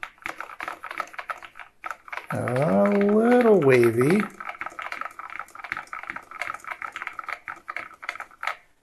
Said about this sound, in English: let's see what happens when we start typing in characters.